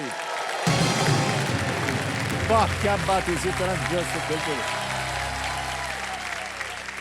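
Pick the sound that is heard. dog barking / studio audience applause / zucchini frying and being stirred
studio audience applause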